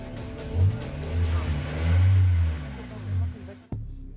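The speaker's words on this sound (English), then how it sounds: "The engine noise is an important clue." A car engine revved hard by the driver during a police roadside inspection with the bonnet raised, swelling in several loud, close bursts before cutting off sharply with a thump, while people talk nearby.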